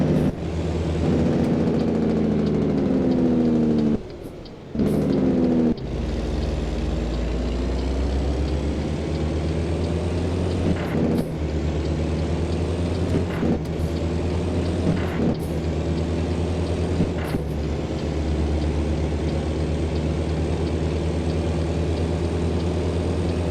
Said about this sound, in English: So, it does have a 625 horsepower engine in it.